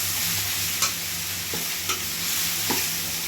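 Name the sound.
frying coriander leaves and coconut in a pan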